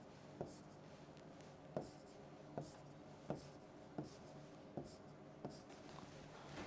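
Pen or marker writing vector notation for a physics lesson, with regular short strokes about every half-second to second, close and faint, with no talk.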